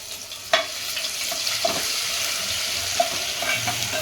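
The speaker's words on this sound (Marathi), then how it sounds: "मस्त लाल परतू देते।" Ginger and garlic frying in hot oil for egg biryani make a steady, close sizzle, broken by a few scraping stirs of the spoon, with no talking.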